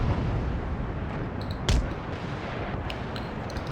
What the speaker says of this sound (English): We've still got some guys firing the guns.